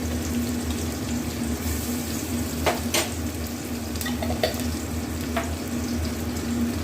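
Onion, garlic, ginger and green chilli fry in hot oil for an egg curry, giving a steady close sizzle with a few sharp spoon taps and scrapes against the pan, without talking.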